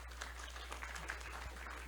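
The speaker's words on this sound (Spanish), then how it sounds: "Y vamos a darle un fuerte aplauso" A church congregation applauds together, producing a steady, fairly faint wash of clapping that holds without a break for the whole stretch.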